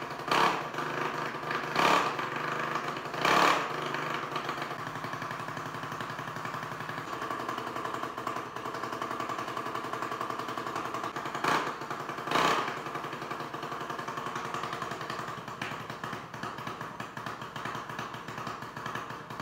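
A freshly rebuilt junior dragster 790 motor with a new rod, piston, rings and bearing and a slightly bigger bore runs on a dyno, giving a steady buzzing engine drone with a few brief louder surges.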